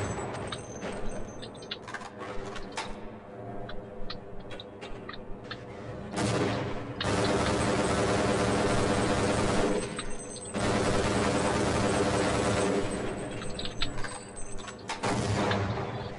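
Rapid gunfire from the Half-Life video game, loud and close, in dense, sustained bursts with brief dips between volleys.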